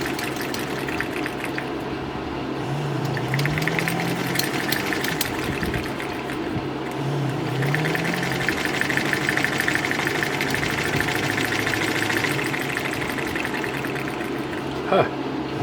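A Kerzel stationary engine runs steadily nearby with a continuous knocking, rumbling drone, while a person talks briefly over it.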